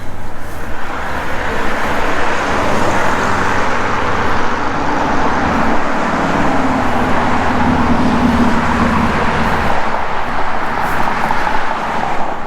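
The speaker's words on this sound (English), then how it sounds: "Kind of hard to talk here with all the cars going by." Steady, loud roar of cars and other road traffic passing on a road near Black Hills field sites, a continuous wash of tire and engine noise with no talk.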